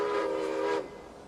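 Oil-fired steam train whistle in the Railway Empire video game, one loud sustained tonal blast lasting under a second that cuts off sharply, followed by quiet background.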